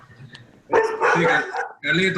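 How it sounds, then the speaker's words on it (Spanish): Dogs barking at home, a few short yapping barks heard during an online meeting, mixed in with and partly under nearby talk. "Si escuchan a los perros ladrando es porque estoy en casa"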